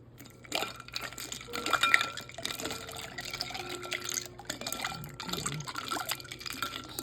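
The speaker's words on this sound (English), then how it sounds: "let's go in with 1 cup of ice." Ice cubes tumble into a liquid Jello mixture with a can of fruit cocktail, giving scattered clinks, splashes and drips at close range, busiest early on and then settling into lighter trickling.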